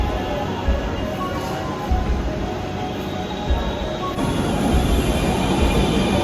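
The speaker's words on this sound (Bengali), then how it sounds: "এই ট্রেনটা এখন আবার ছুটে চলবে উত্তরার দিকে" A Dhaka metro rail train pulls away from the platform toward Uttara, giving a loud, close, continuous rumble with a steady high whine that carries on without a break.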